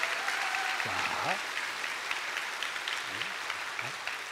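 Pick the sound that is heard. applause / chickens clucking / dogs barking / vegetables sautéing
applause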